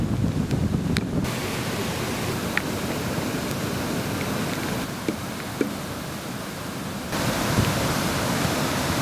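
The flooded Anjoin river, overflowing its banks, roars in a dense, continuous rush of water with the level shifting in abrupt steps and no voices.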